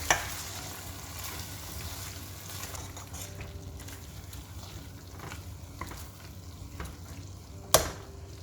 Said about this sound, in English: now we can add our eddoe in. And then a good mix.